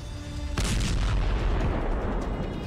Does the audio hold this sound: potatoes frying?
no